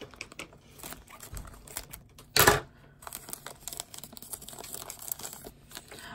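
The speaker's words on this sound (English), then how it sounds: "I'm going to open it with scissors." Close, irregular crinkling and snipping of packaging, with one loud ripping burst in the middle and scattered small clicks around it.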